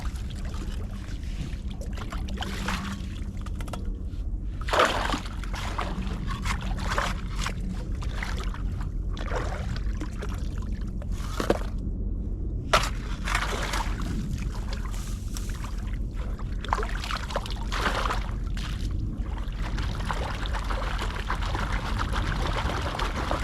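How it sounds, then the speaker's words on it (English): Water swirls and sloshes in a gold prospecting pan outdoors, with a continuous close trickling wash broken by repeated splashy pours and gurgles over twenty seconds, no talk. "I'm gonna go through this pan and see what I get."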